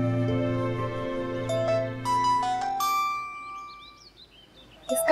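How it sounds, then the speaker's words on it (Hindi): A phone rings indoors in a drama scene, playing a faint melodic ringtone of clear, bell-like notes that step through a short tune over a soft background score. "किसका फोन है?"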